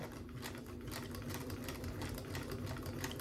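A Bernina 930 sewing machine stitches slowly, giving a soft, steady mechanical whir with a faint repeating needle rhythm, quiet and close, with no talking.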